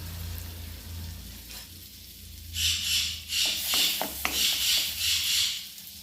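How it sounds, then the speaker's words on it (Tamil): Butter hits a frying pan and melts into a rising sizzle. A faint hiss turns to loud, bubbling crackle partway through and continues in uneven surges. "அதுக்கு வந்து கொஞ்சம் பட்டர் போட்டுக்கிட்டேன் நான்."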